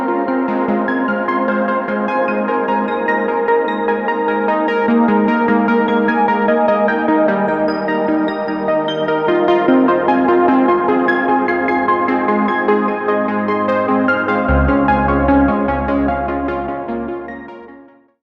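A synth layer plays sustained chords together with a soft pad, a dense, steady wall of tones that holds for about seventeen seconds, with a low bass entering near the end before the whole sound fades out.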